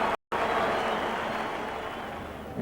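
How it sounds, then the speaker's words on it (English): Crowd at a cricket match in Australia during England's 1986/87 tour roars and applauds loudly, a broad sustained wash of noise after a brief dropout near the start. "Big roar from the crowd."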